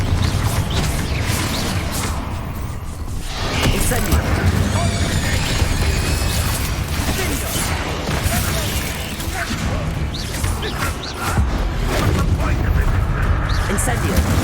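Booming blast-spell explosions and combat clatter in Hogwarts Legacy, dense, loud and continuous, with heavy low rumbles layered under a busy battle mix and voices heard in places.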